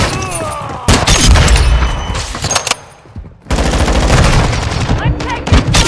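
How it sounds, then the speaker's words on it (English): Loud close bursts of automatic gunfire and heavy impacts in a multiplayer shooter game, in dense volleys broken by a brief lull before firing resumes. "I'm taking fire"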